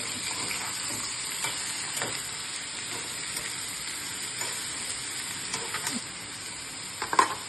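Chopped ingredients with salt being stirred in a pan for a homestyle Kozhikode lunch, soft steady sizzling with a few faint spoon scrapes and a sharper clink near the end, no voices.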